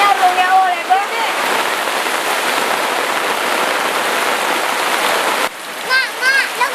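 Steady heavy rain pours down as a dense, continuous hiss, loud and close, with a brief break near the end; voices are faintly audible at the edges.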